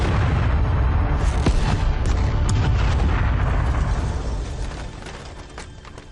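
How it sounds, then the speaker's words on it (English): An explosion in the adventure game Broken Sword: Shadow of the Templars: a heavy, sustained blast rumble with crackling debris that slowly fades over several seconds, with no speech. "But the explosion was to change my life forever."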